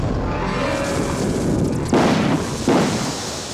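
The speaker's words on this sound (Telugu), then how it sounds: "ఇదేంటిది, రెండు టైర్లు ఒకేసారి పగిలిపోయి ఆశ్చర్యంగా ఉంది." Two car tires burst at once with sharp firecracker-like bangs, two loud close blasts about a second apart over a steady background rumble.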